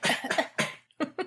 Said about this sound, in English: It's just coughing as it goes.